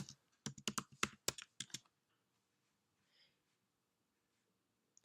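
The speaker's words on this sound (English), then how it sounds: "Enter your network password." A network password is typed quickly on a computer keyboard, a close, crisp run of about a dozen key clicks that then stops, leaving near silence with one faint tap.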